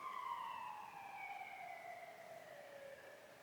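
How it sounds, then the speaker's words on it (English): A fake siren wailing and sweeping slowly downward in pitch, distant and steady over a faint background hiss. "Somebody down there has a fake siren they've been blowing off"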